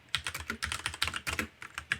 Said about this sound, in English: typing into a visual editor